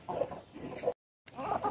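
Chickens and roosters cluck in a busy, continuous chatter while corn is thrown to them, with a brief silent gap in the middle and no talking.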